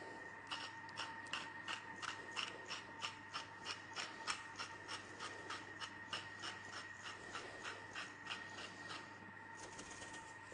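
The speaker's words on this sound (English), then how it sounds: "I'm going to use the salt grinder for this one. I want it quite fine." A salt grinder grinds salt fine in a run of quick, rhythmic rasping twists, close and fairly quiet. The crunchy scrapes repeat steadily for about ten seconds with no talking.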